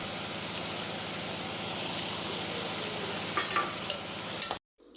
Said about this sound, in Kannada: ಈಗ ಈ ಕಡೆ ನಾನು ರವೆ ಹುರ್ಕೊತಾ ಇದ್ದೀನಿ